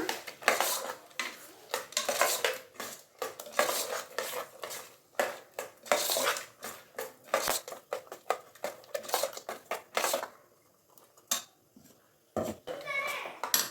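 Ground masala paste going into a pot of Kannada-style hitikida avarekai sambar and being mixed, with busy clattering of a metal spoon against the pot and utensils, steady scraping and stirring strokes throughout, close and fairly loud.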